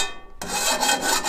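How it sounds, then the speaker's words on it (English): A metal file being pushed along a freshly cut metal edge to remove the burr, a short burst of rhythmic rasping strokes starting after a brief pause, close and fairly loud, with no talking. "run the file over the one edge, slowly work that down, flip it over and back up onto the other edge till you get rid of the burr"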